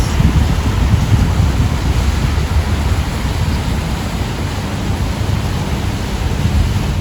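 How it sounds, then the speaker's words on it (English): Outdoor fountains in front of a tall building in Louisville make a steady, loud wash of splashing water, a broad unbroken rush that fills the whole stretch with no talk. "Right in front of the building are all these gorgeous fountains."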